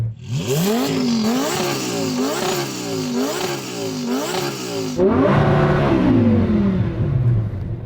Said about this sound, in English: what we'll do before we race is to rev up our engine